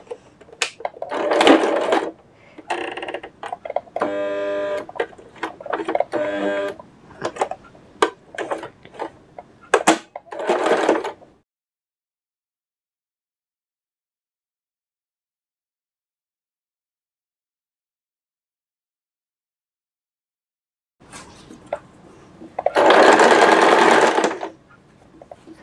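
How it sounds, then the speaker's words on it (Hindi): A sewing machine runs a straight seam on a suit, a burst of dense mechanical whirring near the end after a long silence, following an earlier stretch of clattering, intermittent stitching. "इसी निशान पर अब आपने सिलाई चलानी है।"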